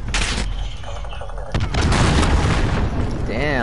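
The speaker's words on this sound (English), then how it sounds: "Damn, I saw that missile fall." Missile explosion in Call of Duty Modern Warfare on the Shipment map, a heavy boom followed by rumbling debris and scattered gunfire, loud and close amid hectic battle noise.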